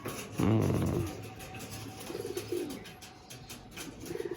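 Male Andhra fantail pigeons coo in a loft, with a loud, close burst of throaty cooing at the start and softer, fainter coos repeating afterward over a faint background hum.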